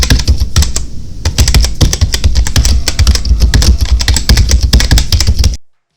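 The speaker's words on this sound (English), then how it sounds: "Clicky switches provide sound and feedback for satisfying typing." Rapid, steady typing on a mechanical keyboard with clicky switches, dense loud keystrokes close up with no talking, stopping abruptly near the end.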